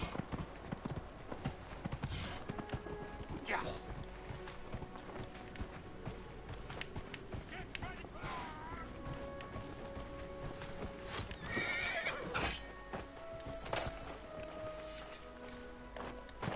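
Rapid clip-clop of hooves galloping steadily throughout, with several horse whinnies breaking through along the way, in the video game Dragon Age: Inquisition.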